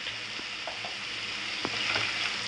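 Pumpkin and chili vegetable stir-fries with salt in a pan, giving a steady, moderately close sizzle broken by a few light spoon scrapes and taps, with no one speaking.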